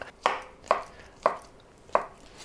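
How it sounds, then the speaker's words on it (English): A knife chops young potatoes on a cutting board in four crisp, evenly spaced strokes, close and distinct, with quiet pauses between each cut. "I'm gonna stick to chopping my vegetables"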